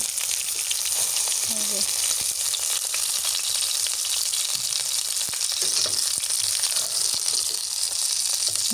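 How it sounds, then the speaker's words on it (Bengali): Fish frying in a pan gives a steady, dense sizzle and crackle that carries on without a break, with faint clinks now and then and no talking. "মাছটা আমার ভাজা হয়ে গেছে"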